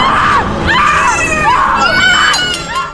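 A woman screams in terror in a horror film set in the town of Silent Hill, loud, repeated wailing cries rising and falling over a dense, chaotic background of other shrieks.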